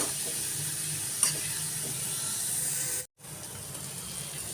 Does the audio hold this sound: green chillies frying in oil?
yes